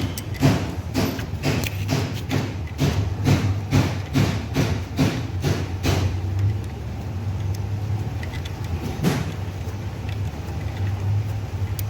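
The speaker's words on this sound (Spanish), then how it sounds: "Vamos a proceder a sacar esa tuerca que está ahí." Metallic tapping and ratcheting while a nut is loosened from the alternator of a Chevrolet Aveo: a rapid run of sharp, evenly spaced clicks over the first six seconds, then a lone knock over a steady low hum.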